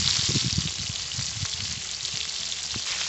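Medium-sized prawns fry lightly in a hot wok over a wood-fired stove, giving a steady close hiss of sizzling oil with small crackles and pops, no voices.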